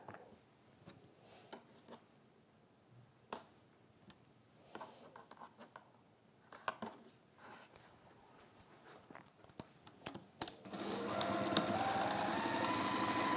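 A sewing machine stitching the sides of a fancy flap bag: scattered clicks and short bursts of needle action at first, then a sustained, louder run of steady stitching near the end.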